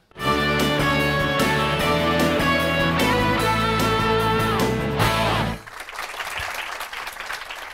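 Audience claps for the young contestants of a spelling contest. A bright burst of music comes first, then dense, steady applause carries on to the end.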